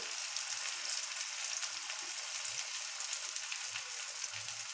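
Elephant foot yam (karunai kizhangu) pieces frying steadily in hot oil, a dense continuous sizzle with no voices, even and close throughout.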